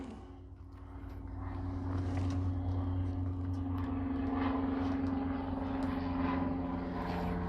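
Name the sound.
airplane passing by outside an open window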